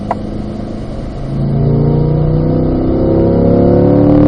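A race car engine at a performance driving school climbs in pitch as the throttle opens on track, a loud, close, rising rev after a quieter lift-off, with no voices.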